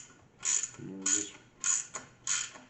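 A hand ratchet tightens rocker arms on LS engine heads, heard as four close, crisp bursts of rapid clicking spaced about half a second apart in a quiet workshop.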